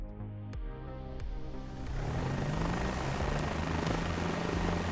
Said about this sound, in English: I am controlling the helicopter now